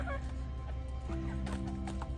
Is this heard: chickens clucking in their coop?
yes